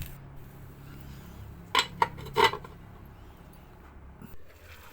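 A few sharp metallic clanks in quick succession, a lid knocking onto a cooking pot of ginataang sitaw (string beans in coconut milk) over a low steady background hum.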